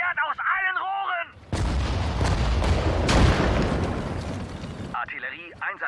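A burst of heavy artillery fire in the WWII strategy game Sudden Strike 4 booms and roars for several seconds, with a German voice talking briefly just before and after.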